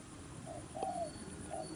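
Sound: cooing decoy dove

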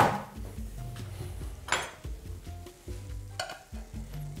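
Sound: chicken kufta frying and sizzling in a pan

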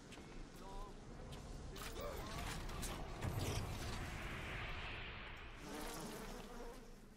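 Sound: bee swarm in Bioshock video game

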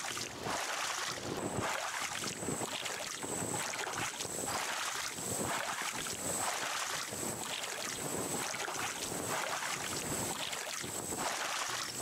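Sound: raft being rowed on water in the video game Raft

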